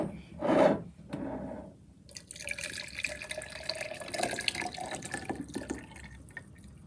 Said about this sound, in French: Et je vais ensuite mettre l'eau chaude dans celui-ci